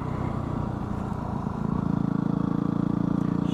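Motorcycle engines near a bar give a low, rumbling idle that turns into a louder, rhythmic thumping pulse partway through, with no voices present.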